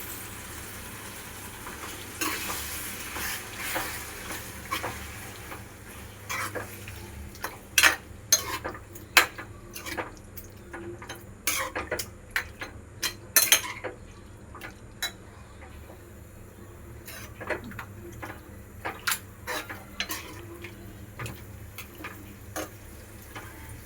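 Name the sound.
stirring chicken curry in a cooking pan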